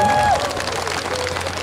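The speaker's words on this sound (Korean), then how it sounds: "이럴 때 경계의 박수도 필요하겠습니다" Audience applause at a live magic show, a brief steady patter of clapping from the crowd, with a short whistle-like tone at the very start.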